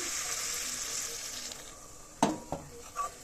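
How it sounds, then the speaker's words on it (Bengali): Spices with ginger-garlic paste and shahi garam masala fry steadily in a pan for a vegetarian fig dish, a broad hiss that fades slightly before a few sharp sputtering bursts as a splash of water hits the hot oil. "এবার আমি দিয়ে দেবো অল্প একটু জল"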